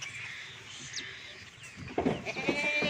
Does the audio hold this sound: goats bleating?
yes